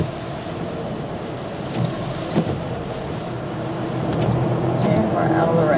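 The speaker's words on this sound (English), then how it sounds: "Still raining." Steady rain patters beside a constant road hiss from a moving car approaching East River Mountain Tunnel, with a few sharp taps and a voice speaking.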